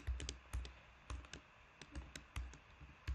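Close, quiet clicks of a computer keyboard as code is typed, irregular bursts of single and paired keystrokes with short pauses between them.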